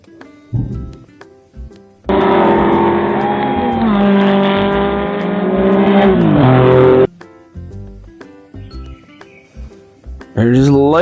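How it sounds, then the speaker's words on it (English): A blue toy racing car gives off a loud electronic engine rev that holds for about five seconds, bending in pitch, between quieter clicks and handling noises. "It's a racing car."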